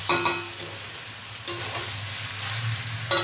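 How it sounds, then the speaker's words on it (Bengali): Rice is stirred in a pan over a gas flame while frying for fried rice, close scraping strokes of a spatula over a steady soft sizzle, without talk. "আমি অল্প অল্প করে ভাত দেবো, আর অল্প অল্প করে আস্তে আস্তে নাড়াবো"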